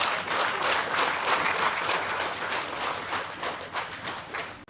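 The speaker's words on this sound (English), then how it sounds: "Give yourself a round of applause." An audience claps continuously at the commissioning ceremony for the Karasabai airstrip, a dense, sustained burst of many hands that fades at the very end.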